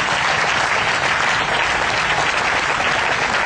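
A crowd at a Jaipur gathering applauds steadily, a dense, continuous wash of many hands clapping at even loudness with no voices rising above it.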